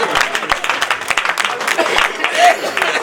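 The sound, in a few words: audience clapping at a comedy poetry event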